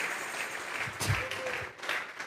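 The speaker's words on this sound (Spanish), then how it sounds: "vamos a regalarle ofrenda de palmas al Dios de la gloria" Church congregation applauding in a steady burst of clapping, fairly close, with a brief spoken voice partly mixed in.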